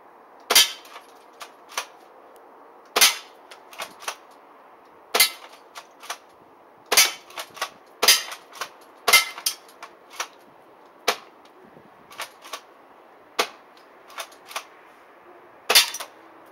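A spring-powered ASG SPAS-12 airsoft shotgun fires a string of sharp, snappy shots in loose irregular rhythm, each loud crack followed by a softer clack of the pump being worked, close by, with no talk.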